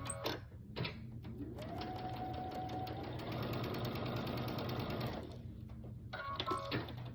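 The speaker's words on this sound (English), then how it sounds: "So I'm going to sew them down this side right here at a 1/4 inch" A sewing machine runs steadily for several seconds, stitching fabric pieces together at a quarter-inch seam for a fall pumpkin door hanger, with a brief start and stop at either end.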